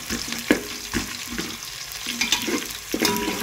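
Onion being broken apart and fried in a pan over a medium flame, sizzling under repeated scraping knocks of a spatula in an uneven rhythm, no talking.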